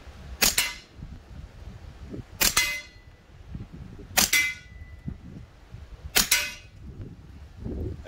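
A firearm fed from a magazine fires four loud, sharp shots spaced about two seconds apart, each with a brief ringing tail, over quiet outdoor background noise.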